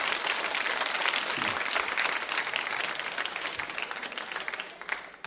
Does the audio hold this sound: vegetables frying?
no